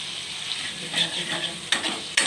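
Minced chicken meat sizzles and fries steadily in a pan, with a spatula scraping and stirring through it in several distinct strokes, loud and close with no talking.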